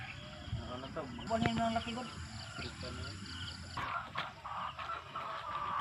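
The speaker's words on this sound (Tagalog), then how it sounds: "Andito na naman ako sa mga manok nagtuktulaok." Chickens crowing and clucking at a moderate distance on a small farm with a hut and rambutan trees, mixed with people talking and general outdoor farmyard noise.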